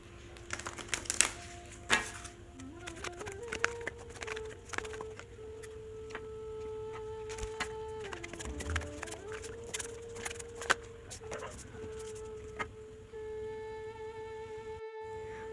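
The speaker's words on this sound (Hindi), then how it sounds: "सबसे पहले हम आपकी कार्ड शफल करते हैं" Tarot cards are shuffled in quick, light riffles and taps under a steady background hum, close and fairly quiet.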